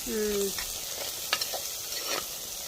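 Ingredients for a fish curry sizzle and fry in a pan while being stirred until golden, giving a soft, steady hiss with occasional scrape and clink sounds. A voice talks briefly at the start.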